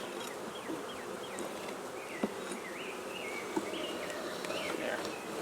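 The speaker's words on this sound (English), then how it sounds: "there's bees on the edge." Dense buzzing of many bees fills the air around a hive, a continuous soft drone with a few faint taps and clicks, alongside scattered bird chirps.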